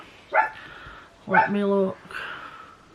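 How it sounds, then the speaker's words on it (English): A dog barking indoors, a short yip followed by a longer whining bark and a softer trailing bark, with a person talking nearby. "That bloody dog."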